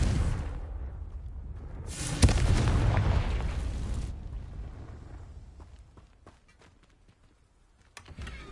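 Fiery Confringo blasting spell in Hogwarts Legacy, a single loud burst that booms and roars for about two seconds before fading into softer game clatter, with a few faint clicks and a last sharp pop at the end.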